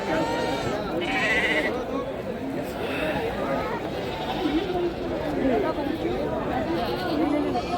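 Sheep and goats bleat repeatedly at a busy livestock market, with overlapping calls near and far over the chatter of a crowd and people talking close by.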